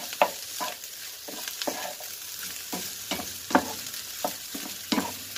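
Egg frying with rice in a hot pan, a steady sizzle broken by regular scraping strokes of a spatula stirring, close and fairly loud.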